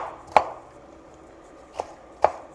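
Three spaced knife strikes as a yellow pepper gets rough-chopped, one crisp chop, a long pause, then two more chops close together, near and distinct against a faint background hum.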